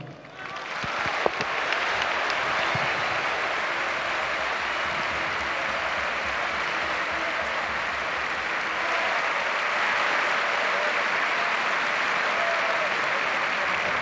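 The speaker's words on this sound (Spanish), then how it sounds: "Qué ovación merecida, ¿no?" A stadium crowd gives a sustained ovation at a farewell celebration for San Lorenzo players, a dense, steady roar of clapping and cheering with no talk.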